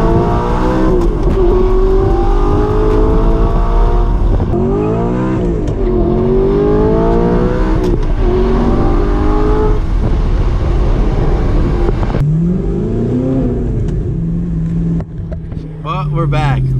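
A manual Audi R8 V8 with a loud exhaust is driven hard, its engine rising and falling in repeated revving pulls through the gears, close and loud, with a voice talking over it.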